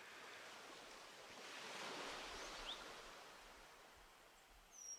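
Ocean waves wash onto a beach in a walking simulator game, a soft continuous surf hiss that swells gently midway and again near the end, heard alone without speech.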